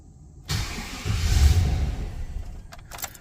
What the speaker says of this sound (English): The security light's flashing. It'll crank and cut off,